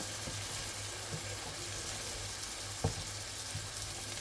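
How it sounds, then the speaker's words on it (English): Three eggs fry in a pan for fried rice, giving a steady close crackling sizzle with a few soft clicks of stirring. "I'm just gonna cook my eggs until they are cooked."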